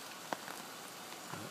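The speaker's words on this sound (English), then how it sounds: "I thought it'd be interesting to see if this thing would actually cook in the rain" Rain falls outdoors on a wet camp setting where a wood-burning stove is fed with soaked sticks, heard as a faint, steady patter with a few isolated drop ticks.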